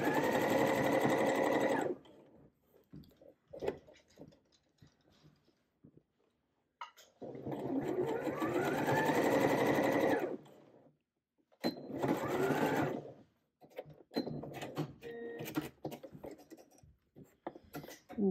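A sewing machine stitches a collar for a Butterick B6857 garment, running in three close bursts of steady whirring with quiet pauses and a few faint handling clicks between them.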